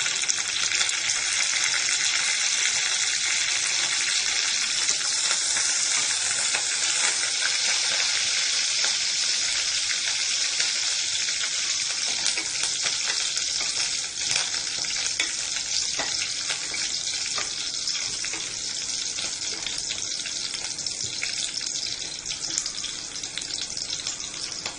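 Green chili and curry leaves sizzling in hot frying oil for a Kerala-style chicken stew, a loud, constant crackling hiss close to the pan, unbroken for the whole stretch.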